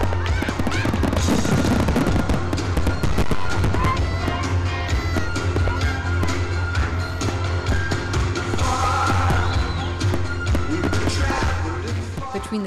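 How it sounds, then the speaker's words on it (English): A Fourth of July fireworks display crackles and pops in dense, continuous bursts, moderately loud, with crowd noise and voices mixed in throughout. "After the sun went down, the fireworks shot up."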